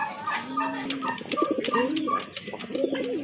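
Desi pigeons coo in low repeated rolling calls close by, with someone talking over them.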